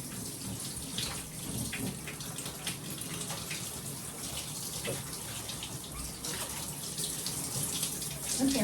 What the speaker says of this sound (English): Finish rinse here.